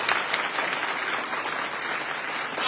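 Steady audience applause welcoming the president of a disability-rights group at a Gujarati public event, a dense even clatter of many hands sustained throughout with no voices over it.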